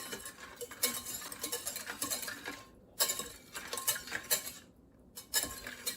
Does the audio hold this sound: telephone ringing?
no